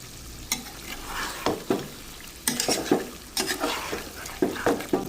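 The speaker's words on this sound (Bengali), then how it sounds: "মাংস কষানো হয়ে গেছে" Meat is stir-fried bhuna-style in a pan, giving a continuous sizzle broken by repeated scraping and clattering strokes of a spatula or ladle against the metal, close up and with no talking.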